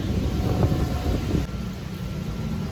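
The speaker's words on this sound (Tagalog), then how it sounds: "Malakas yung hangin, mga repa." Steady, loud wind roaring and buffeting close to the mic, a constant broadband rush with no voices.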